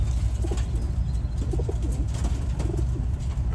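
Racing pigeons coo in a loft cage, several soft, throaty rolling coos repeating over a steady low rumble of background noise.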